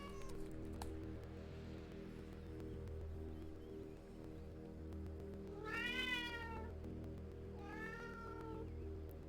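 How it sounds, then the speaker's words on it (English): A Siamese cat in the Vertigo video game meows twice, two drawn-out cries in the second half, heard clearly over a low, steady game background. "Oh my, what a pretty kitty. A little Siamese."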